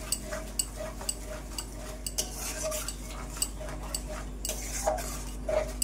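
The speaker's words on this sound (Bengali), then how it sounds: "এবার একটু ভালোভাবে নাড়াচাড়া করে ফ্রাই করে নেব" A spoon stirs and fries ground spice paste in a pan while cooking a hilsa fish dish, giving regular light metallic clicks and taps over a faint, steady background hiss.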